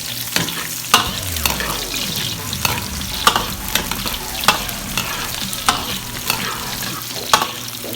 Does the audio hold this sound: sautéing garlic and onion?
yes